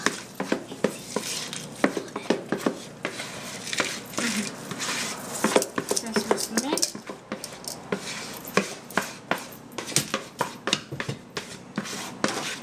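Cake batter spread in a pan with a ladle, a quick homemade cake; a steady run of close, sharp scraping and tapping strokes of the ladle against the pan, with no one talking.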